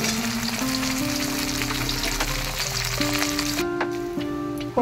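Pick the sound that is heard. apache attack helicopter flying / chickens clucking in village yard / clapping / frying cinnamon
frying cinnamon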